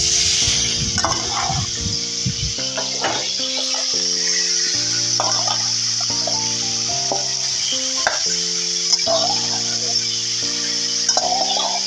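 Marinated meat fries in a kadai, giving a steady sizzling hiss with occasional spits and stirring sounds. Melodic music plays loudly over the frying throughout.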